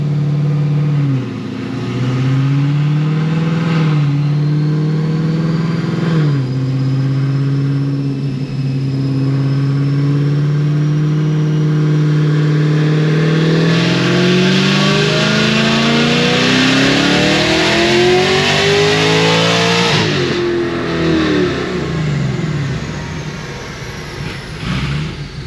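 A Cadillac CTS-V fitted with a Magnuson 2650 supercharger roars through a dyno pull, the engine climbing loudly from a low drone to a screaming high-rev peak with supercharger whine, then dropping off near the end.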